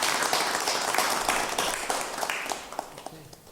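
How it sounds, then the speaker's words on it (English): Audience applause at the close of a refugee week radio show: steady, dense clapping that fills the whole stretch, fading slightly toward the end. "Give yourself a big clap."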